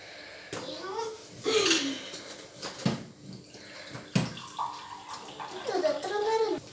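Water trickles slowly from a tap while tea is being made, running steadily in the background as an adult and someone talk over it.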